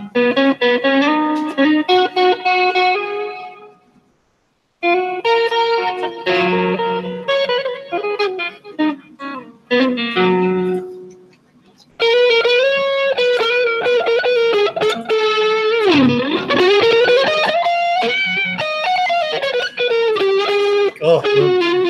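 An electric guitar with Mark Culberson pickups, played through a Line 6 Helix preset, sounds distorted with chorus-like shimmer. Loud riffs and sustained bends come in phrases separated by brief silences.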